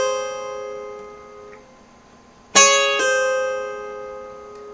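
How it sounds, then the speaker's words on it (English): Acoustic guitar with the 1st and 2nd strings struck together and a ring-finger pull-off, a bright sudden chord attack followed by a second quick note, ringing out clearly and alone over a quiet, sustained background. "You're going to hit both the 1st and 2nd strings, and as you do that, you do a pull off with your ring finger."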